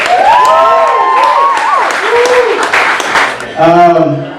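A comedy show audience applauds and cheers as a comedian is introduced, a steady bed of clapping heard under loud, overlapping speech and excited voices throughout.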